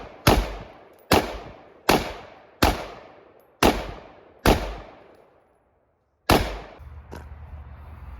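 Outdoor shots from an AR rifle: six sharp, loud reports at a steady pace, each with a long fading echo, then a pause and one more crack followed by low background noise.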